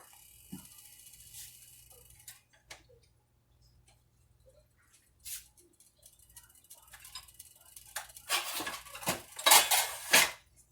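Garlic being stirred in oil in a pan: sparse metallic clinks and scrapes of a utensil against the pan at first, growing into louder, busier clattering and scraping near the end.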